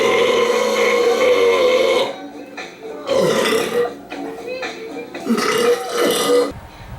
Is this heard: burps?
yes